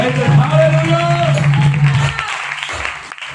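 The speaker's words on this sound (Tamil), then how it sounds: "கைதட்டு" Audience clapping at a Tamil church meeting, a burst of applause mixed with a voice for about two seconds before fading into scattered sounds.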